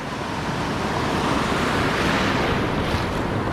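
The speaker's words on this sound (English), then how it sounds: "Across it's a sandbank, and there's waves washing in now." Ocean waves wash over a sandbank at a wild-coast river mouth in a continuous roaring surf wash, loud and steady with wind buffeting the microphone and no voices.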